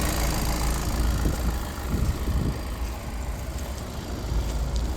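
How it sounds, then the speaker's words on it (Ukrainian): A 2020 Volkswagen Crafter van's engine idles close by with a steady, even low rumble that holds through the whole stretch, with no voices over it. "двигунчик працює ідеально"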